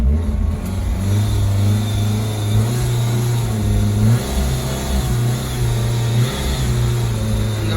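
A BMW E30 318i four-cylinder engine revs under throttle in short rising and falling bursts, close and loud, settling between pulls.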